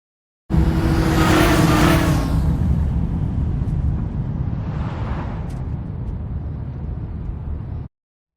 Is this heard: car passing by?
yes